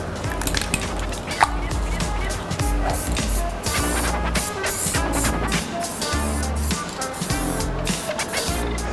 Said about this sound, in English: So I like to wear a mask when I'm spraying.